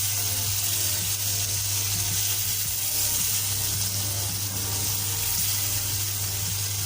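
Fried chicken pieces simmering in masala for arvi chicken salan, a soft, steady sizzle and bubbling at moderate level, continuous and unbroken, with no talking.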